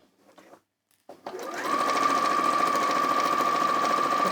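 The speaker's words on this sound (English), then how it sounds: "That's the 550, which is the most affordable sewing machine that we do" A compact 550 sewing machine starts up after a brief quiet stretch, then runs steadily and smoothly at speed with an even mechanical whir.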